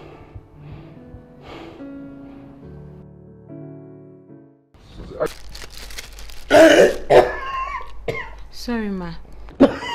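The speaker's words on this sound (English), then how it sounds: "Mummy is still coughing." A woman coughing and clearing her throat in a domestic drama scene, a few rough, close bursts following quieter background music, with a brief spoken line nearby.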